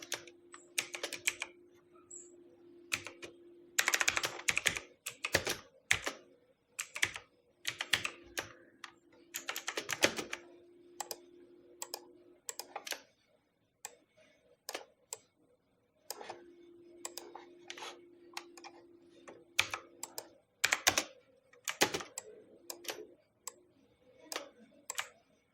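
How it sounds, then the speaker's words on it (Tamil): Bursts of typing on a computer keyboard, quick clusters of clicking keystrokes separated by pauses, close and fairly clear, with a low background tone running under parts of it. "ஏதாவது டெக்ஸ்ட் இருந்தால் இங்கே வந்து நம்ம டைப் பண்ணிக்கலாம்"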